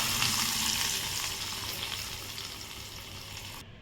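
Hot tempering of curry leaves and asafoetida in oil poured onto mango dal, a bright sizzle that flares at first, then gradually fades and cuts off abruptly near the end, with no voices.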